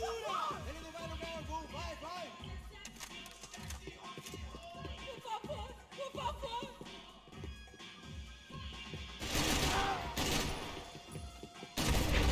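Bursts of Kalashnikov rifle fire in the video game Max Payne 3, rattling in short volleys beneath a steady stream of talk and game music.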